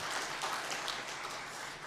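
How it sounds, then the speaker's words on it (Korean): A church congregation gives the choir a round of applause, with steady, dense clapping filling the sanctuary at a moderate level throughout. "우리 격려의 박수 한번 드립시다."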